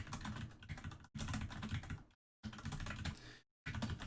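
Steady typing on a computer keyboard, with dense rapid keystrokes in close bursts split by two brief silent gaps.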